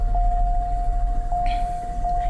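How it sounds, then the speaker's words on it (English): A steady, piercing high-pitched squeal from the AC dryer of a 2001 Buick LeSabre holds unbroken throughout, sitting above a low engine rumble. "the AC dryer squeals like there's no tomorrow"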